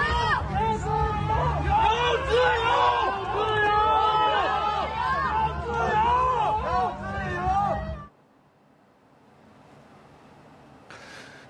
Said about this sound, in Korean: 자유를 달라며 함성을 외쳤습니다.